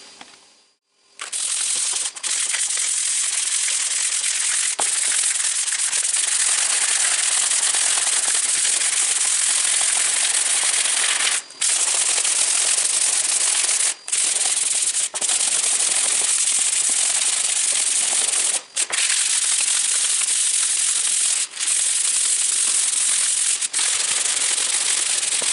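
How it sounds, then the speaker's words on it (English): Sandpaper scrubs steadily over the level crossing of a model railway layout, a loud, continuous hissing rasp with a few short breaks as the strokes pause. "let's get to sanding"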